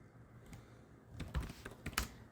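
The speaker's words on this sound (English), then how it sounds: "Then type this following command" Typing a command on a computer keyboard into a Windows command prompt: a few soft isolated taps, then a quicker run of sharper clicking keystrokes, close and fairly quiet.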